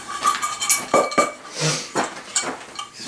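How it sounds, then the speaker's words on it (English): Metal pans and utensils clatter and scrape close by as food is moved from one pan into another, a busy run of irregular clanks and knocks without speech. "I'm going to go ahead and transfer that into another pan."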